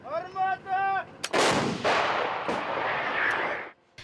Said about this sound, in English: Russian forces again shelled and bombed towns and cities